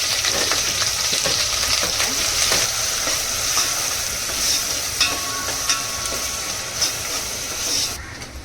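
Curry leaves and ground coconut paste fry in hot oil, giving a steady, close sizzle with a few spoon-scraping clicks and no talking.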